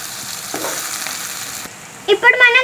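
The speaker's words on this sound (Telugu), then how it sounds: "ఎర్రగా అయ్యేదాకా మనం వేపుకుందాం." Capsicum fries in a pan with salt, chili powder, turmeric and a ground spice paste, giving a steady close sizzle, then a few scraping stirs near the end.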